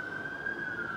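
Emergency vehicle siren wailing on a steady high tone for a brief moment, heard alone at moderate distance.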